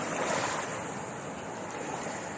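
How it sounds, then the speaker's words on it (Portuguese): Water waves on the Riacho Seco river, a steady broadband wash of moving water with some wind, fairly close and continuous with no talking. "As ondas das águas."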